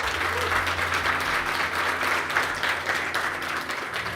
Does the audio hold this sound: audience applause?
yes